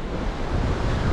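Steady ocean surf on a sandy beach at Porto de Galinhas in Pernambuco, Brazil, gives a broad continuous wash close by, with wind buffeting the microphone and no talk.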